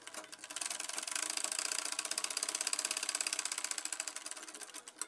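A sewing machine stitches along the folded hem of a petticoat in a fast, steady mechanical rattle of rapid needle strokes, close and quiet, running continuously for several seconds without voices.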